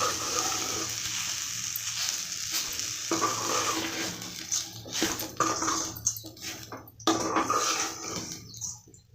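Wheat rava and vermicelli upma frying and being stirred in a pan, a steady close sizzle with scraping stir strokes and a few sharper clinks.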